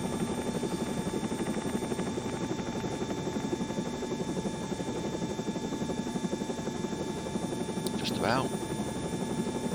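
Simulated helicopter in a flight simulator game, a steady rotor-and-turbine drone with a constant buzzing hum throughout, a voice talking briefly over it.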